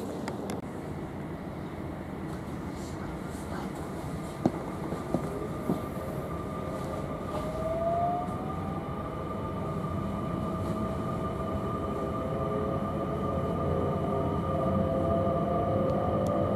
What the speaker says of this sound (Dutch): Netjes wachten op de trein.